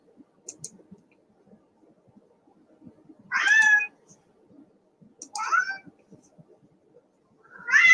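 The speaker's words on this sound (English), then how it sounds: "It's the Gray Goose commenting or meowing" Cat meows three times, each a short, clear, nearby cry spaced a couple of seconds apart, with faint clicking and quiet background noise in between.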